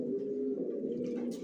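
Johnson line racer pigeon chicks coo steadily in a loft, a continuous low murmur of overlapping calls with no pauses, close and moderately loud.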